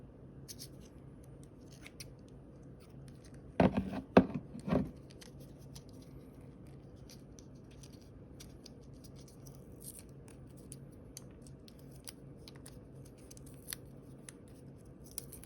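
Scissors snip through battery packaging for Mitutoyo digital vernier calipers in a quiet room, a short cluster of three or four crisp cuts close by, then faint handling noises.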